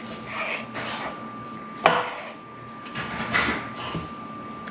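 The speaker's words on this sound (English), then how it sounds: "I'm just gonna cut it so it fits into my baking dish" Food cut into pieces on a board to fit a baking dish, with several soft knife strokes and one sharper knock over a steady background hum.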